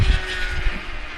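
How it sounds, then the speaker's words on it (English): Motorcycles race in the background shortly before dawn, a steady, distant engine drone that stays fairly loud and unbroken throughout, with no voices over it. "motorcycles racing once again"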